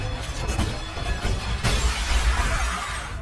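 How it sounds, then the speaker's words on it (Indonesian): A glass door shatters in a zombie film scene aboard a train, a dense burst of breaking glass with scattered crashing debris and rumble running throughout, loud and close. "pintu kacanya tiba-tiba pecah"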